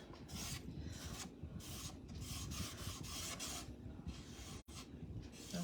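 Steady, close rasping rub of a brush or rag working white paint onto a wooden sign, continuous scratchy strokes with one brief pause near the end.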